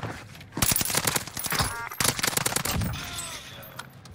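Rapid, loud shotgun blasts crack in quick succession during a Call of Duty Warzone match on Rebirth Island, followed by a quieter tail of further shots and game noise.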